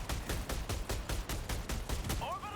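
Automaton turrets firing at bases in Helldivers: rapid repeated heavy bursts in a steady rhythm, about ten sharp blasts in quick succession, loud and close, with a brief voice near the end.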